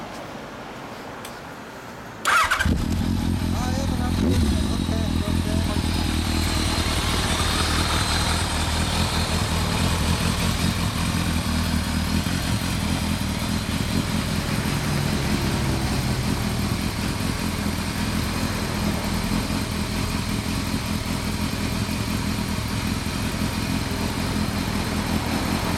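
A 2003 Kawasaki ZRX1200R motorcycle with an Akrapovic exhaust idles steadily and close, with a deep, throaty exhaust rumble that runs unbroken for the whole stretch after a brief quieter start.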